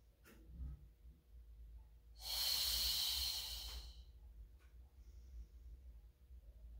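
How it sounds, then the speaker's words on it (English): A single breathy exhale of roughly two seconds during a Pilates mat exercise, close and soft, rising quickly and fading out, with faint shuffling around it. "and exhale up."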